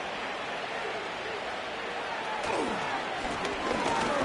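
Steady roar of a stadium crowd in a football video game, a dense wash of noise that swells slightly near the end, with faint thuds and whooshes mixed in.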